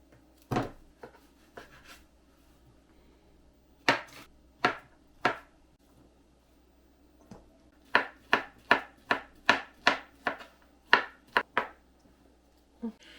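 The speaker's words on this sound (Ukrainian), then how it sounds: "І залишилось нарізати два банани або будь-які фрукти за вашим бажанням." A knife chopping two bananas on a board: a few scattered cuts, then a quick steady run of about a dozen crisp taps, close and fairly quiet with no talking.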